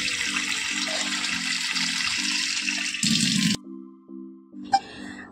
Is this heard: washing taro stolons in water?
yes